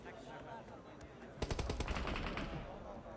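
Rapid gunfire bursts from a PUBG Mobile esports match, loud close shots clustering in the middle over a steady game background, with commentators talking throughout.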